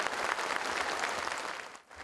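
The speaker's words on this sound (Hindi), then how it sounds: "कृपया सभी लोग अपने अपने स्थान पर खड़े हो जाएं और जोरदार तालियों के साथ स्वागत कीजिए" Audience applause greeting an honoured guest, Dr. N.V. Asthana, at a Kamuna Srijan 2014 ceremony: a steady, dense wash of clapping from a standing crowd that holds for about two seconds and briefly dips near the end.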